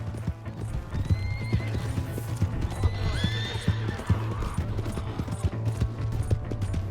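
Horse hooves clip-clop steadily through a Red Dead Redemption 2 scene set around Valentine, with a horse whinnying clearly about midway, all over a constant low ambient hum.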